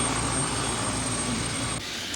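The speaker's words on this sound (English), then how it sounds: "Pretty exciting day here, isn't it, with a helicopter moving it?" A helicopter flies overhead while moving equipment at a salmon stock project site in St. Mary's, giving a loud, steady engine and rotor roar that runs without a break and sounds close.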